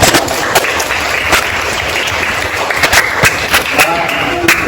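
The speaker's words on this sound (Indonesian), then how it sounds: "Berikan aplaus dulu kepada untuk Dapak" Audience applause for a speaker at a university teaching-practice session, sharp claps over a dense crowd wash with talking mixed in, loud and close throughout.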